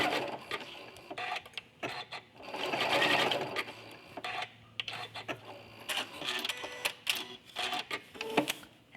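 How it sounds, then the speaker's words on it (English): A sewing machine tacking a quilt runs in short rapid bursts of stitching, forward and then back over the same stitches, with brief pauses and small clicks between runs, close and fairly quiet. "a couple of stitches forward, and then back stitch a couple of stitches over those original stitches"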